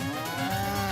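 Cartoon bull's moo sound effect, a single sustained low bellow filling the whole second at steady loudness, with no talking over it.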